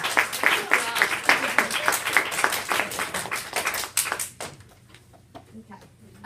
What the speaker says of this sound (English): Oh, you can clap now.